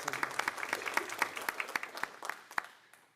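Scattered hand claps from a small audience at a county school board meeting ring out fairly quietly, a few distinct claps standing out before the applause tapers off.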